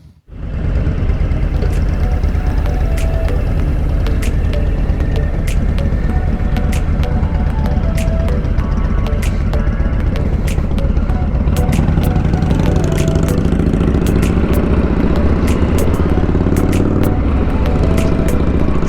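A motorcycle ride near Cape Town and Simon's Town, South Africa, with a loud, steady engine drone and heavy wind rumble close up throughout, the engine note rising slightly partway through.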